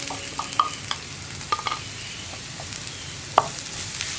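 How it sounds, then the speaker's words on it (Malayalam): Spice paste being stirred into sprouted chickpea thoran in a pan, a soft sizzle with scattered scraping clicks of the spoon against the pan, fairly quiet and close, no voices. "അരപ്പും കൂടി ചേർത്ത് നന്നായിട്ടൊന്ന് ഇളക്കി മിക്സ് ചെയ്യാം"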